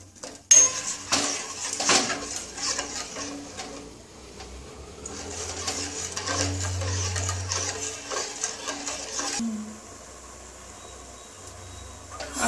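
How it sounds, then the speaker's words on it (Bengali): Tamarind and jaggery chutney being stirred in a pan, with spoon scrapes and clinks against the metal sounding through a low background hum, steady and fairly close, with no talking. "এটা সমানে নাড়তে হবে,"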